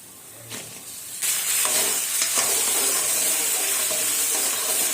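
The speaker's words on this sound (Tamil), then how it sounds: "வழவழப்பு நல்லா போகிற வரைக்கும் வெண்டைக்காவை நல்லா வதக்கிக்கலாம்." Loud, steady sizzling of okra sautéing in hot oil, starting abruptly after a quieter moment and continuing with occasional stirring scrapes.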